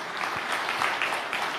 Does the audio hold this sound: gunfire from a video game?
no